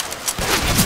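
Weapon reload in the Left 4 Dead 2 video game: a short, close burst of clattering mechanical clicks and knocks, finished in under a second.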